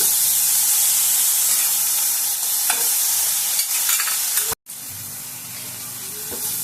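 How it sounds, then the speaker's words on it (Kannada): Tomatoes frying in a pan for dhaba-style paneer bhurji, a loud continuous sizzle with occasional stirring scrapes, cut by a brief dropout near the end before the hiss resumes, and no talking. "ಟೊಮೆಟೊ ಹಾಕಿದ್ಮೇಲೆ ಚೆನ್ನಾಗಿ ಫ್ರೈ ಮಾಡ್ಕೊಳ್ಳೋಣ."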